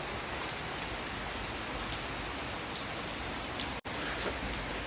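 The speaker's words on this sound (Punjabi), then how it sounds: "ਆਪਾਂ ਸਵੇਰੇ ਸਵੇਰੇ ਤੁਹਾਨੂੰ ਮੀਂਹ ਦੇ ਦਰਸ਼ਨ ਕਰਾਤੇ" Morning rain pours steadily on a rural Punjab farmstead, a dense, uniform rush of drops on surfaces that holds throughout, broken only by a split-second dropout near the end.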